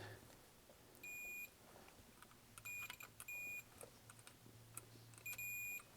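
A multimeter set to continuity gives several short, high electronic beeps of varying length, spaced irregularly over a faint low hum, quiet and close.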